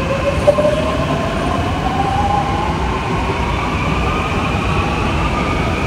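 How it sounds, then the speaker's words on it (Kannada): A Mumbai metro train pulls away from the station with a loud, steady rumble and a rising whine as it gathers speed, heard close from the platform. "ಬಟ್ ಈಗ ನೋಡುವ ಇದಾದ ಈಗ ಹೊರಡ್ತದೆ ಟ್ರೈನು"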